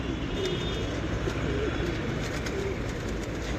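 Breeder pigeons, small-winged birds kept in a loft, cooing softly in repeated low calls over a steady background hum, with no voices.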